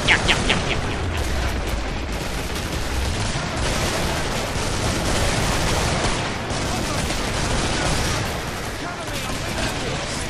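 Sustained automatic AK rifle fire roars nonstop in the co-op zombie shooter Killing Floor, dense rapid shots layered with booming impacts and a voice talking over the din.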